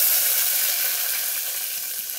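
Chopped onions frying in hot oil with cinnamon and cloves for vegetable rice, a loud, close, steady hiss of sizzling that eases slightly over a couple of seconds, with no talking.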